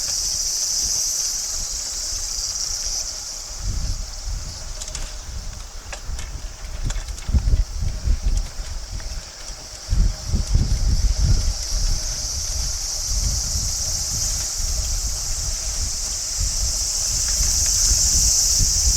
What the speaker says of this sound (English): Wow, listen to those cicadas.